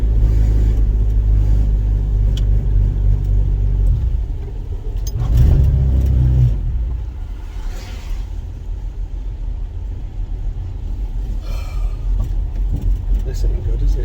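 A car with a faulty exhaust rumbles loudly at close range, revving up and dropping back with a deep, rough drone, while someone talks over the engine.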